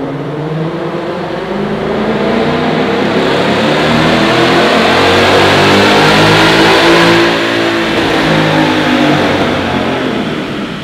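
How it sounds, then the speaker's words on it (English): A 2020 Ford Mustang with the automatic 10R80 transmission makes a dyno pull in 6th gear, its engine roaring loud and close as it climbs steadily through the revs for about ten seconds, then eases off, with no talking. "So we just got done making the first pull with this 2020 Mustang. We did in 6th gear"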